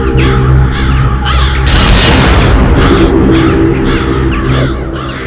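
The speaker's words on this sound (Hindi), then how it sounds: "इतने सारे कौवे इस वक्त?" Many crows caw loudly and repeatedly over a deep rumbling drone, harsh calls overlapping in a noisy, dramatic mix.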